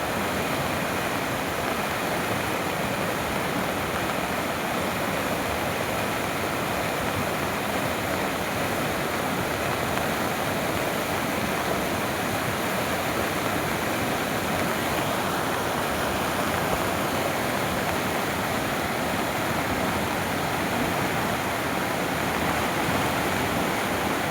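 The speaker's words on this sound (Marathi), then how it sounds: "नदी कशी फुल भरून वाहते" A loud, steady roar of rushing water, broad and unbroken for the whole stretch, from a river in heavy flood after the first monsoon rain surging close by.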